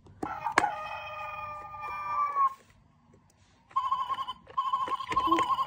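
A rooster crows in a toy farm-animal sound game, a harmonic, somewhat electronic-sounding call in two bursts separated by a brief pause, fairly loud and close.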